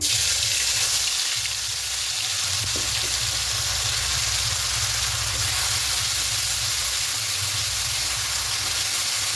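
Ginger, garlic and onion paste frying in hot oil for a Bhola fish curry, a steady broadband sizzle and hiss that runs unbroken and fairly loud throughout, with no talking.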